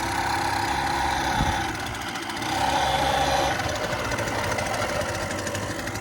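A trike's motor runs steadily while warming up, with a continuous mid-pitched engine drone, some rattling texture and no speech over it.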